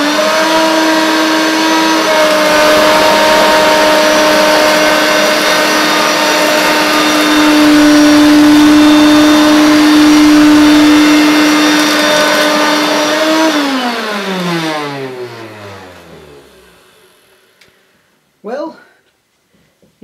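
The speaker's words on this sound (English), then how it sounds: "how this vintage Hoover Turbomaster performs" A vintage Hoover Turbomaster U5096 upright vacuum cleaner runs loud and steady close by with a whining motor tone, then winds down as it is switched off, followed by a brief clatter.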